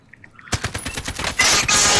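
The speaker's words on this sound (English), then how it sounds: "Why'd you shoot, dude?" Rapid automatic gunfire in Call of Duty: Modern Warfare, loud and close, with dense bursts of shots running from a half second in and building to a heavy sustained volley near the end.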